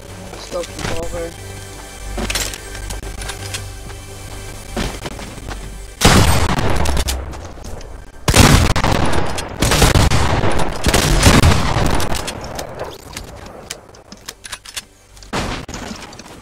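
Scope revolver gunfire in a video game build battle, sharp loud shots and bursts of booming blasts that cluster in the second half, with talk heard between them.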